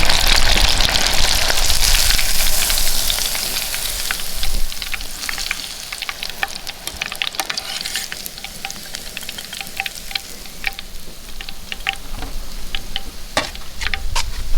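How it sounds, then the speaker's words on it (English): Trout fry in oil heated to about 350 degrees, giving a steady loud sizzle with crackling pops and spits throughout and no talk. "I got all our trout fried up"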